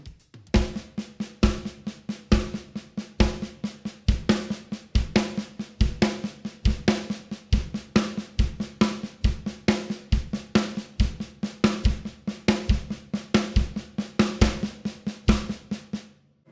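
Drum accent exercise in steady sixteenth notes, loud accented strokes standing out clearly above quieter ghosted notes in a regular, driving rhythm, played close with no talking.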